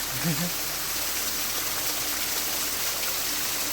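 A small forest waterfall in the jungle pours in a steady, close rushing wash of water that holds level throughout, with a brief murmur of a voice near the start.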